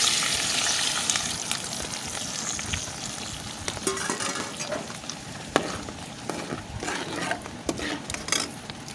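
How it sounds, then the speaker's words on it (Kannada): Mustard seeds splutter in hot oil for tomato rasam, a continuous close sizzle dotted with sharp pops and crackles, with occasional clinks of a utensil against the pan. "ಚೆನ್ನಾಗಿ ಸಾಸಿವೆಲ್ಲ ಸಿಡೀಲಿ"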